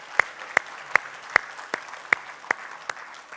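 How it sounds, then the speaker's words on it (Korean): Slow, evenly spaced single claps, about eight sharp strikes in a row, stand out over a quiet room during a church worship service where the congregation is asked to clap in encouragement. "이분들을 위해서 격려의 박수 한번 해주세요."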